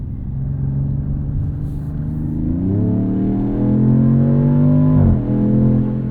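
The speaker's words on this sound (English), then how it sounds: "It doesn't seem to make the exhaust any louder because it's so loud in auto." A twin-turbo inline-six 2026 Dodge Charger Scat Pack sedan accelerates with a loud, steady exhaust drone that rises in pitch, dips briefly near the end, then climbs again, heard from inside with no talking.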